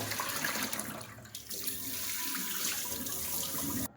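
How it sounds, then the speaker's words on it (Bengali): Water poured out of a clay mould after soaking, a steady close splashing gush that runs for about four seconds before stopping abruptly. "এখন এই জলটা ফেলে দেবো।"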